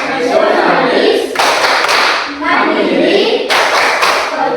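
A group performing the rhythmic PPK clapping chant in a classroom session, loud bursts of many hands clapping in patterned sequences mixed with voices chanting together, close and energetic.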